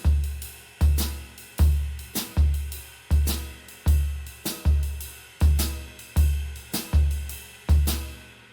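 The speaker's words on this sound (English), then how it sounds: "I'm going to be continuing with the blues shuffle where the ride cymbal is continuing to play the shuffle" A drum kit plays a blues shuffle: a triplet-swung ride cymbal over a steady bass drum, with the snare hitting beats 2 and 4. The strokes are punchy and close in a regular repeating pattern, with no talking.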